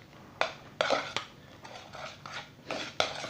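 Mashed potato is mixed with mustard and salted butter in a pot, the utensil giving a run of sharp knocks and scrapes against the metal at a close, irregular pace.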